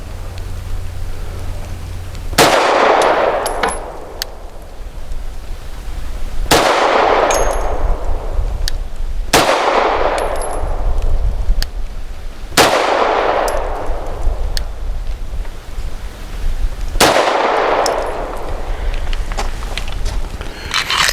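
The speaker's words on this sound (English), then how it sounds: "My turn for 5 shots from 7 yards," SAR USA P8L pistol firing Norma Hexagon 124 grain rounds at an outdoor range, five loud sharp shots spaced a few seconds apart, each with a ringing decay, no talking.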